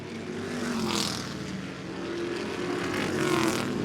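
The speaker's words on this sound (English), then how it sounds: "Charlie Lima's not lifting on that throttle one little bit" Race cars roar around the track at Lee USA Speedway, a continuous loud engine drone with passing swells as cars go by at full throttle.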